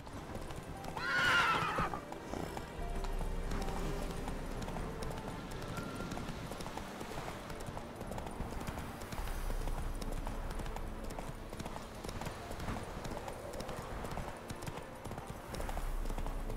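Horse in The Witcher 3 whinnies loudly near the start, then its hooves clip-clop steadily at a low level, mixed with quiet game ambience and no talking.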